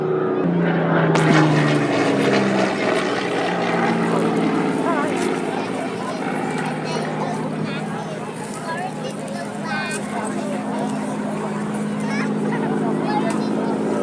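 Vintage aircraft DZ865 flies at the Southport air show with a loud, sustained propeller engine drone, while an announcer speaks over the public address.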